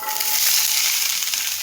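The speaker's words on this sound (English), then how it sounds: "hear that sizzle?" Close, steady sizzling and crackling of vegetables frying in a hot skillet, a bright hissing sound with no voices.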